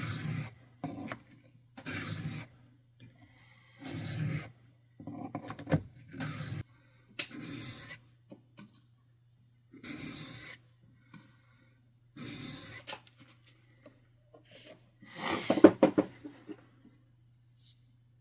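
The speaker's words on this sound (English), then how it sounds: "we're just going to finish sharpening the knife like normal now" A Mora 106 Scandi knife is drawn across a 1000 grit sharpening stone in repeated rasping strokes, about a dozen separate scrapes with short pauses between them over a low steady hum, close and fairly quiet.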